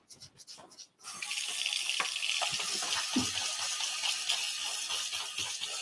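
Tap water runs steadily into a sink while a paint brush is washed during home decor work, a continuous close gush after a brief quiet start.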